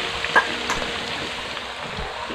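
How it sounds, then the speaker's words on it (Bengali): Ground onion paste hisses in hot oil with spices in a village kitchen, a steady close sizzle with a light clink or two of a utensil early on and no talking. "এখন পেঁয়াজটা হালকা একটু ভেজে নেব"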